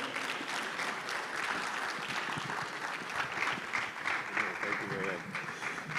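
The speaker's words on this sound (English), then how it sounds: "a round of applause for him" Steady applause from an e-learning international conference audience fills the hall for several seconds at moderate loudness, with a speaker's voice talking over the clapping.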